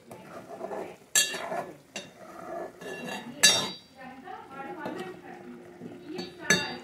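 Mutton curry being stirred and mixed in a pan, with repeated metal clinks and scrapes of a spoon against the pan, heard under near, continuous talking.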